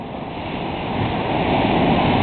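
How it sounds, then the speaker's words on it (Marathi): Large sea waves near a bridge, a loud continuous roar of surf building slightly over two seconds with no other sounds. "खूप मोठी लाट आहे"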